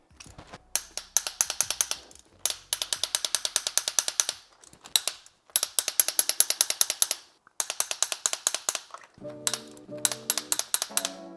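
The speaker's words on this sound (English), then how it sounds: "Now we're gonna bust out the torque wrench." A torque wrench ratchets while spark plugs are tightened on a 2021-2025 Audi A5, loud, close runs of rapid, even metallic clicks repeated in bursts with short pauses, ending with a ringing tone.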